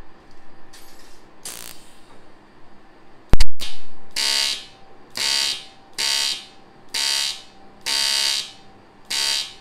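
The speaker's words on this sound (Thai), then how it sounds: "นี่เสียง AC ก็จะเป็นประมาณนี้นะครับ" A Longwel TIG AC/DC 215P welder welding aluminium in AC mode gives off a harsh buzzing hum, then a sharp arc strike followed by a steady series of loud, evenly spaced pulsing buzzes.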